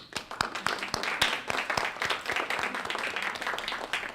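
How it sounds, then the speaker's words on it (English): A small audience, including members of a university Sociology Club, applauds in a room, the uneven individual claps of a modest group sounding close and steady for about four seconds. "So why don't you give yourselves a round of applause"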